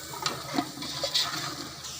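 Water splashes into a pot of sela rice pulao with meat, a short close gush with a few brief splashes and clinks and no talking.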